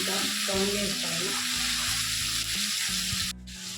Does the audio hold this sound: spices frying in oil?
yes